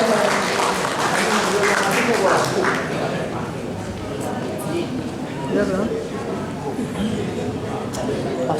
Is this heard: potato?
no